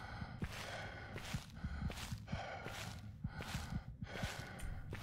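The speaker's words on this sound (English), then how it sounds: "Man, you are just breathing in my ear." A horror video game character breathes heavily right up close, with slow, rhythmic inhales and exhales, some with a faint gasp, repeating about five times over soft footstep clicks.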